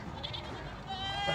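A goat gives a brief, quiet bleat at the Dina goat market, heard among background chatter from people nearby.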